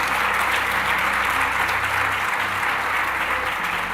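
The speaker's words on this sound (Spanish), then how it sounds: "denle ese aplauso fuerte al Señor" A church congregation at an Easter Sunday service claps loudly and steadily, an unbroken wash of applause with only faint voices beneath.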